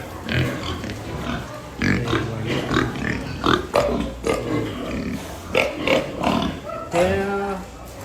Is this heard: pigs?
yes